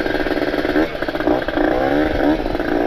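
A Kawasaki Ninja RR two-stroke motorcycle with a ported engine and an ABRT20 galvanized exhaust with a 26 stinger revs up close and loud, its raspy engine note rising and falling in repeated throttle blips.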